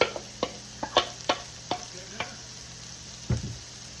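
Onions and peppers for a Philly cheesesteak enchilada filling stirred together in a pan, a soft low sizzle punctuated by a handful of crisp clicks and scrapes of the utensil, close by and quiet, with no talking.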